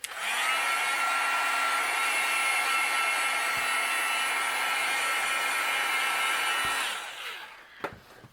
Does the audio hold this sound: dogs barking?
no